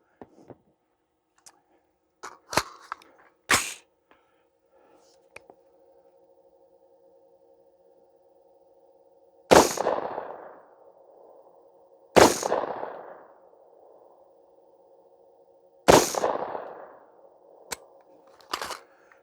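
Suppressed 300 Blackout rifle firing subsonic rounds: several sharp, loud reports spaced a few seconds apart, each with a short decaying tail, plus smaller metallic clicks of the action in between.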